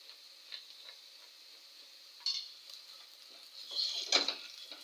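Curry powder being stirred into a Kenyan-style egg stew in a pan, with soft intermittent scraping and a faint background sizzle, rising in a couple of louder stirring bursts toward the end.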